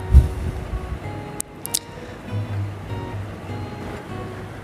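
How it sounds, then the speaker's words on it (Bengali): Vegetables frying slowly in a pan until browned, a steady low sizzle and crackle running throughout with a few brief sharper clicks, no voices over it. "এটাকে ভেজে নেব যতক্ষণ পর্যন্ত এটা ব্রাউনিশ কালার না আসে"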